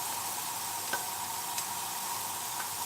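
Duck breast fries skin side down in a hot pan with a steady, dense sizzle, close and even throughout, broken by a couple of faint ticks and no talking.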